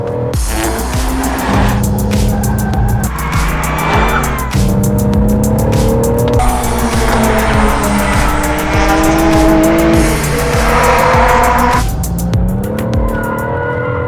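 A BMW hatchback engine revs hard and shifts through gears, with tires squealing as it drives aggressively, loud and close throughout.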